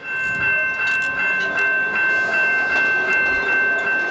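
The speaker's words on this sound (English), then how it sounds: "the mere sound of the train" A New Jersey light rail train rolls past with a steady rumble and rhythmic clatter, a sustained ringing bell tone riding over it throughout.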